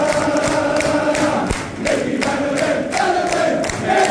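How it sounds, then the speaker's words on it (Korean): Away Tottenham fans cheer Micky van de Ven after a match at Luton Town, a dense, sustained crowd roar with rhythmic rises and chant-like pulses, loud and continuous throughout. "반더벤을 연신 환호하는 원정 팬들"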